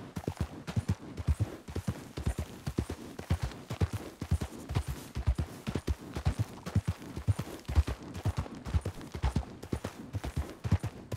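Horse hooves in the Diablo game clip-clop steadily and continuously in a brisk repeating rhythm, close and moderately loud, with no talking.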